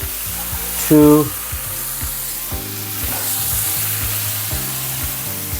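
Steak sizzling in a pan with a steady frying hiss, broken by a few sharp clanks and rhythmic scraping or stirring sounds, plus a short burst of voice near the start.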